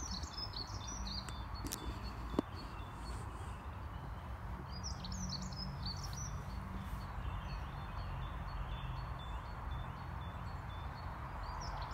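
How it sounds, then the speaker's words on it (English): Scattered bird chirps and song trills ring out over a constant low outdoor rumble along an afternoon walk, with calls clustered in short bursts and one sharp click. "You can hear the birds."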